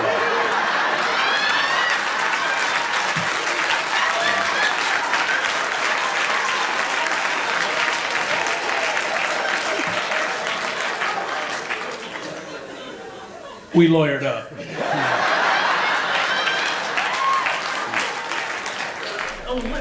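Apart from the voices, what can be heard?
comedy audience applause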